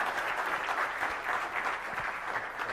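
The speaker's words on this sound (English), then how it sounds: "So let's give them a round of applause once again for coming." Steady audience applause at an engineering talk, an even wash of many hands clapping at a moderate distance, holding constant with no voices on top.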